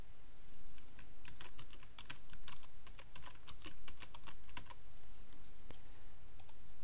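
Steady, close keystrokes on a computer keyboard as the text of a WordPress blog post is typed out, a continuous run of quick clicks with no talking.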